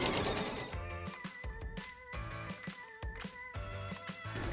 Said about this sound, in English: So I'm setting my machine to a zigzag stitch.